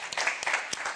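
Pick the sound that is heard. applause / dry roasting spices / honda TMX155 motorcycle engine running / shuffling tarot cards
applause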